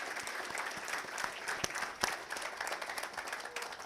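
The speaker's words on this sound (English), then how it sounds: "Ladies and gentlemen, please join me in applauding the next generation of Associate Degree of Nursing professionals." A crowd at a school signing day ceremony claps steadily, many hands at once, with a few sharper individual claps standing out; moderate and continuous, without talk.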